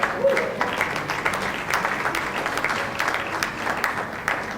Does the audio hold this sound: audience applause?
yes